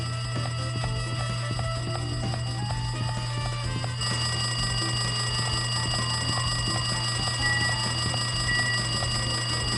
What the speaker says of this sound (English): Yeah, the phone is ringing.